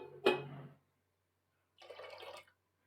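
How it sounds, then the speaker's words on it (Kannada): Water poured into a pot of tomato-based avarekai upsaaru, two short splashing bursts separated by a silent gap, close and fairly quiet. "ಇನ್ನು ಸ್ವಲ್ಪ ನೀರು ಹಾಕ್ಕೊತೀನಿ"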